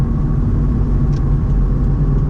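A 2017 Subaru WRX fitted with a Boomba bypass valve pulls hard up to about 60 mph, a loud, steady low engine drone and road rumble filling the cabin with no break.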